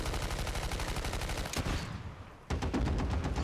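Automatic gunfire in Battlefield 1943, fast rattling bursts that cut off briefly, leave a short lull, then resume loud and close.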